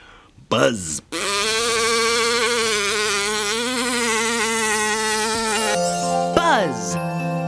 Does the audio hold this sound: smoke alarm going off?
no